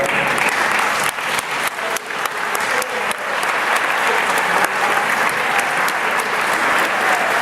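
Roomful of people clapping for black belt martial arts instructors at a workout class, a loud, steady wash of applause with a few sharper individual claps standing out.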